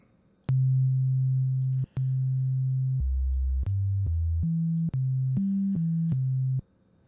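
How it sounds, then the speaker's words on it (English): Pure sine tone from a Reason Thor synthesizer stepping through a sequence of low held pitches, each note clean and steady with small clicks at the changes, alone and fairly loud. "So now we just have a standard sine wave."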